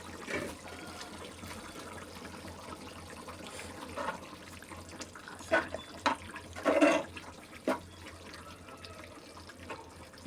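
Chicken curry bubbling and simmering in a pot, a steady wet hiss broken by a few louder gurgling bursts, with no talking.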